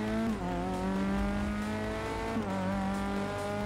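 A formula racing car in the Forza 6 video game, its engine droning loud and continuous with a gliding pitch that dips as it slows for a turn, with no break in the sound.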